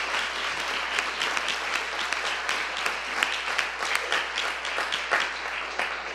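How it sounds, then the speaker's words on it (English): Steady, dense applause from an audience at a Chicago Public Schools Board of Education meeting, sustained at an even level throughout with scattered sharper claps on top. "That deserves a round of applause."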